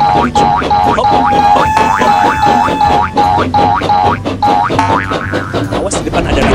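Springy boing effects repeat in a fast, regular series as a toy brick train hops along the track in the Labo Brick Train game, loud and close, with a bright rising tone near the end.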